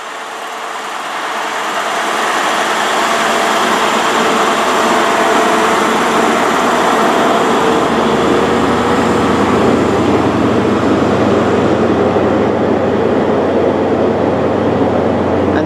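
Class 43 power car 43154 rolls into Reading station, a loud swelling roar of diesel engine and wheels that builds within the first two seconds and then holds steady and close.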